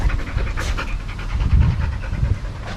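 Jojo the dog pants close by, quick rhythmic breaths repeating steadily over a low background rumble, with no talking.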